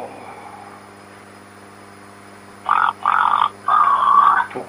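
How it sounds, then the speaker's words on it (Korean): Loud, buzzy croaking comes in four quick bursts after a quiet stretch, each a rough, throaty call repeated in rapid succession. "개구리 소리야?"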